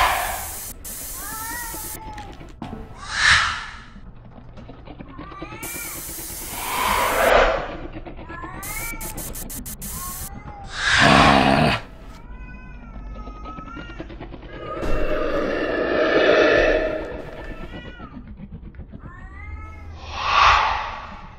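Cats meow repeatedly in the Erie drinking game, with several yowling, wavering calls and caterwauls spread over about twenty seconds, mixed with bursts of hissing noise and a few short electronic game effects.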